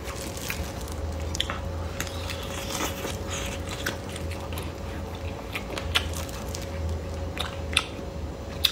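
Roasted sausages from a mukbang of meatballs, sausage and chicken legs in sauce, bitten and chewed close up: soft wet squishy chews and small crunchy bites run steadily over a low background hum, with no talking.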